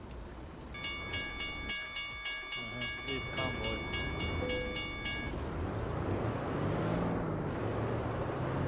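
A train in American Truck Simulator starts moving, marked by a steady run of evenly spaced clunks and rail clatter over rumbling engine noise, with a voice speaking over it.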